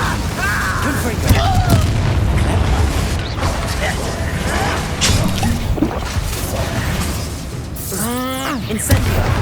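The Confringo explosive spell in Hogwarts Legacy goes off amid a loud, busy combat mix of booms, crashes and whooshes, with spoken spell incantations and a creature's rising shriek over the blasts.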